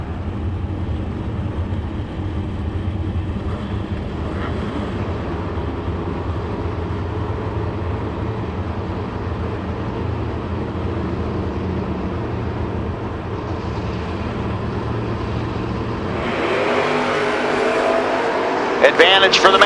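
A 1938 Chevy and a 1969 Camaro running at a drag racing event, with a loud continuous engine roar that rises sharply toward the end, heard under a track announcer's voice.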